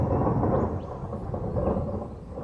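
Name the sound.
thunder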